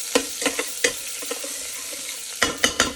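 Dal cooks in an Instant Pot while a spoon stirs it, making a series of close wet clinks and scrapes in irregular bursts over a soft bubbling background.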